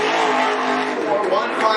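Late model race car number 55 at Cottage Grove Speedway, its engine roaring steadily and loudly throughout, with an announcer talking over it.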